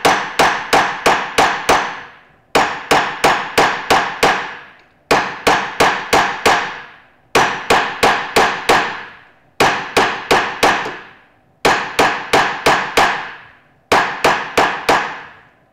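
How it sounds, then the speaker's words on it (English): Hammer blows ring on metal in quick bursts of five or six strikes, each set followed by a short pause, loud and close with bright metallic ringing, as a Fretz hammer forms a convex metal bracelet against a stake. "I'm compressing the metal against the stake."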